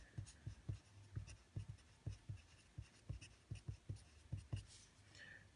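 Pen writing by hand on paper while working a math practice problem, a steady series of short scratchy strokes in quick rhythm, close and fairly quiet, with no talking.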